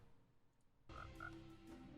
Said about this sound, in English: Frog's confirmed.